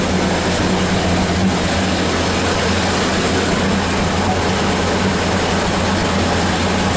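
A 1930 Ford Model A engine running on an 8-volt battery, a loud, steady, continuous mechanical rumble heard up close without a break.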